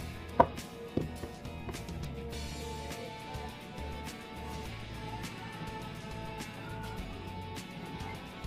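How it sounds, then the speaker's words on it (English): A knife cuts carrots on a board at home before juicing, with one sharp knock near the start and then sparse, faint taps over a steady background murmur. "I think I want to cut these carrots into three."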